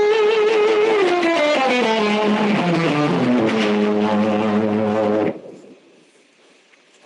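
A distorted electric guitar rings out a harmonic minor chord shape as a sustained, sliding line of notes for about five seconds, then cuts off abruptly, leaving faint amplifier hiss.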